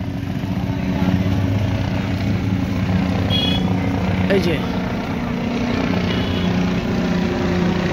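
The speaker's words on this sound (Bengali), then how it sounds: "আর ওই যে উপরে হেলিকপ্টার আসছে," A helicopter passes overhead on patrol above a crowded riverside bathing festival at the Kumbh Mela in Prayagraj, its continuous low rotor drone filling the scene beneath someone talking briefly and crowd noise.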